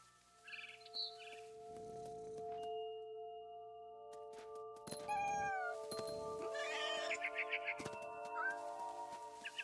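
A cat meows and caterwauls in What Remains of Edith Finch, giving several drawn-out, wavering cries with brief bird chirps mixed in, all over sustained tonal game music.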